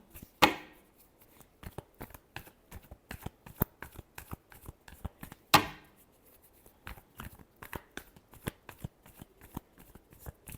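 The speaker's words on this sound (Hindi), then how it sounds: "last shuffle" Tarot cards are shuffled by hand in a quick series of crisp riffles and slaps, with two sharp louder bursts, all close and clear with no talking.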